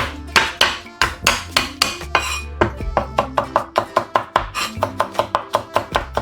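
Garlic being chopped with a knife on a board, rapid sharp repeated chops in a quick rhythm, close and loud, with no talking.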